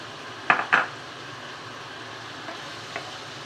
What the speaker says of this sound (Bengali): আলুটা মশলার সাথে কষিয়ে নিচ্ছি।